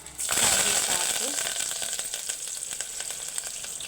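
Dried red chillies and curry leaves drop into hot oil already holding mustard and cumin seeds, bursting into a loud spluttering sizzle that slowly settles into a steady crackling fry, heard up close.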